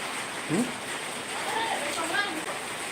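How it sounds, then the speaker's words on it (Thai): Steady rain hisses in the background while people talk nearby, their voices rising briefly over the constant patter. "บรรยากาศฝนตก"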